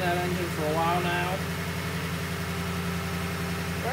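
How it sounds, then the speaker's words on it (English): A 2017 Toyota Tundra with the I-Force V8 engine of about 380 horsepower idles steadily with a low, even rumble, while someone speaks over it near the start. "I-Force V8, around 380 horsepower, pretty good engine."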